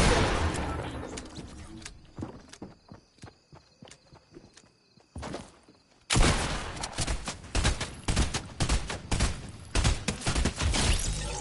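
Fortnite gunfire with footstep-like taps, first sparse and fairly faint, then a louder stretch of quick, repeated shots.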